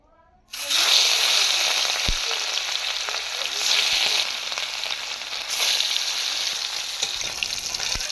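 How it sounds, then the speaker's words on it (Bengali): Catla fish pieces coated in turmeric and salt frying in hot oil, a loud, steady sizzle that bursts in suddenly after a brief quiet start and crackles on continuously, close by. "তেলটা আমার গরম হয়ে গেছে, এবার এক এক করে মাছগুলো ভাজে নেব।"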